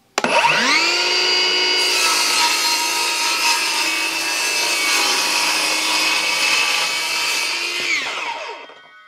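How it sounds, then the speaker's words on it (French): A Ryobi R18CS7 cordless circular saw spins up with a whine and cuts through a 10 mm MDF board, a loud sustained tonal buzz for about eight seconds before winding down. "je vais couper une planche de médium de 10 mm d'épaisseur"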